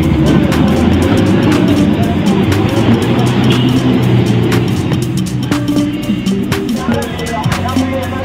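A car being driven, heard from inside the cabin as a steady, loud engine and road rumble that continues throughout, with people talking over it.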